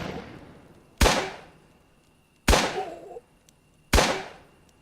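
Three sharp, loud gunshots from the video game Atom RPG, spaced roughly a second and a half apart, each a crisp crack followed by a short decaying echo over quiet background.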